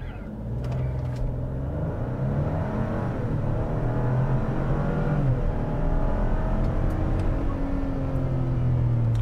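A 2022 Ford Expedition XLT Max, a heavy full-size SUV, accelerates hard from 0 to 60 mph. The engine note climbs steadily under a constant loud road rumble, heard from inside the cabin with no talking.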